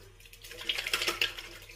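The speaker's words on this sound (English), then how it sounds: "wet the hands." Tap water running briefly into a sink to wet the hands before a shave, a soft steady splashing that swells for about a second and then fades, close and fairly quiet.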